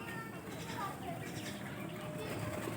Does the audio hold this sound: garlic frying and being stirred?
no